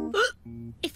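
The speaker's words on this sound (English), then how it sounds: "how am I going to get rid of these hiccups?" A cartoon character hiccups a couple of times in quick succession, loud and close, in short voiced bursts with brief quiet gaps.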